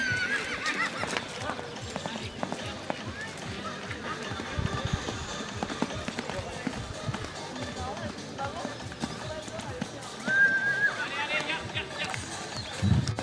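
At a show-jumping competition, a grey horse that broke its halter whinnies and its hooves clip-clop faintly in the distance, under a loudspeaker announcer and nearby talk.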